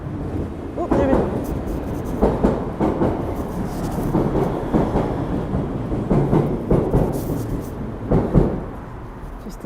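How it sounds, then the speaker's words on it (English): A train rolls past in Edinburgh, a loud rumbling and clattering pass with rhythmic wheel knocks and rattles building and fading over several seconds, with street ambience around. "Just in time for a train."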